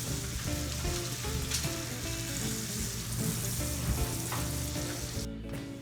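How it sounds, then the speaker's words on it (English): Tortillas fry in a very hot pan with a steady, loud, close sizzle that holds for several seconds, joined by faint scraping and stirring. "we're gonna fry up the tortillas. I like to get mine kind of crispy, so I let this get pretty hot"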